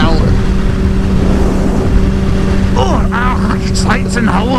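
Two sport motorcycles ride together with a steady, loud engine drone and rushing wind, and voices break in near the end.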